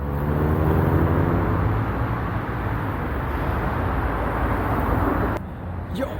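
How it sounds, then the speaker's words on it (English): Cars pass on a busy road in Frankfurt, a loud continuous rumble of traffic with a low engine drone that swells and eases, ending in a brief sharp disturbance near the microphone. "I'm here on the busy road in Frankfurt. A lot of cars are passing by."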